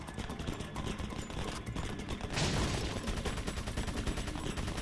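Enemy gunfire in Resident Evil 4 rattles as a dense, continuous fusillade of rapid shots, loud and close, swelling into a heavier burst midway.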